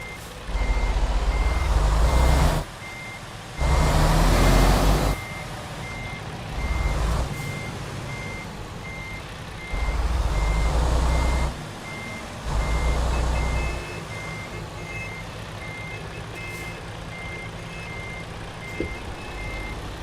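A truck in a driving video game manoeuvres with loud repeated reversing beeps and a rumbling engine, sounding in several long bursts separated by quieter gaps, with no voices.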